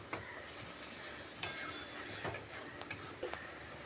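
Ghugni peas sizzling softly in spiced oil in a pan, a faint, quiet fry punctuated by a few sharp utensil clinks and scraping stirs.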